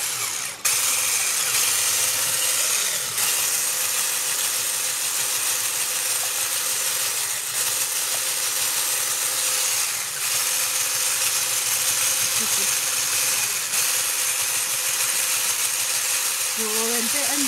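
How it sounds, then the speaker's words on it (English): Electric hand whisk running continuously while mixing cupcake batter, a steady loud motor whir throughout with small pitch shifts near the end as the speed is raised, and a person speaks over it. "We've just got to whisk these up."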